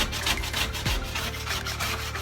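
Scraper rubbing back and forth over a grimy stove top during cleaning, a close, steady, gritty rasping with repeated short strokes and no talk.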